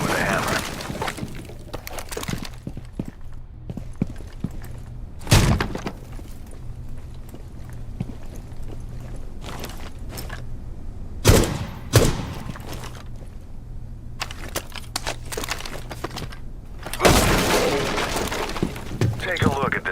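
Sledgehammer blows shattering bulletproof glass in the tactical shooter Rainbow Six Siege, with several sharp crashing impacts spaced out over a continuous game background with footsteps and thuds, under intermittent talk.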